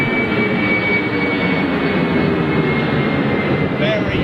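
A jet airliner roars down the runway on takeoff at Gatwick Airport, a loud, steady, continuous engine rumble that fills the whole stretch without letup.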